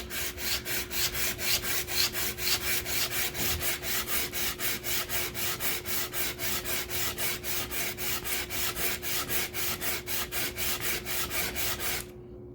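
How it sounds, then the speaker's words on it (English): A metal Optimus water block is lapped back and forth on sanding grit, a close, loud, steady rhythmic scraping of many even strokes, about three per second, that stops abruptly at the end. "I want to say about maybe 4 or 5 more minutes of lapping, and that'll be good on this grit"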